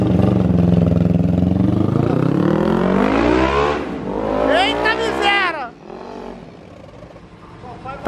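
A Riva 500R motorcycle engine revs hard up through its range on its first street ride, rising and then falling away as it pulls off, with voices talking nearby.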